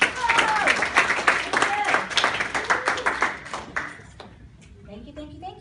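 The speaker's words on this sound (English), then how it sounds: "All right, give them a round of applause." Applause breaks out from an audience at a teen resiliency talk, a dense clapping burst that thins and fades over about four seconds, with scattered voices mixed in.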